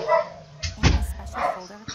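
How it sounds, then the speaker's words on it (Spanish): Dogs barking in the video game Life Is Strange, a couple of sharp barks and yips in the middle of the clip with some faint game sound around them. "Pinches perros."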